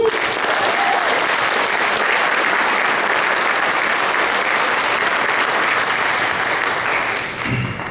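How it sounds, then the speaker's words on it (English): Dense, steady applause from a crowd, sustained and loud throughout, tapering slightly at the very end. "big round of applause for you guys"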